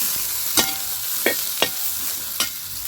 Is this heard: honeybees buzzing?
no